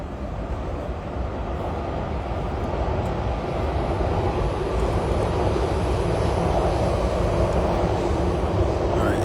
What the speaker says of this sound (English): You heard that train?